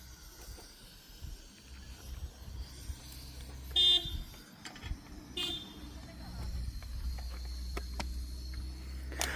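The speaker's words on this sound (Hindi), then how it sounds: "हम लंच बना रहे हैं तो गाड़ी वाले हॉर्न बजा बजा के निकल रहे हैं।" Passing vehicles honk on a mountain road in Pauri, Uttarakhand, with a couple of short horn toots in mid-distance over low traffic rumble while people talk nearby.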